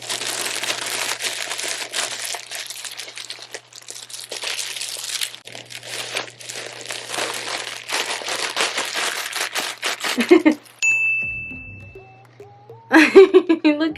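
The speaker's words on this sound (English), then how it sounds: "There's a plastic on it, so let's take it off." Plastic wrapping is peeled and crinkled off a YouTube silver play button, a close, continuous crackling rustle with sharper crinkles throughout, ending with a few squeaky scrapes and a brief final burst of crinkling.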